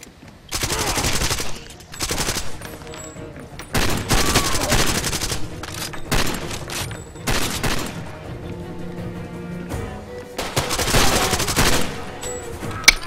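Dense bursts of automatic gunfire during a firefight in the video game Far Cry 2, loud sustained volleys broken by short pauses and scattered single shots.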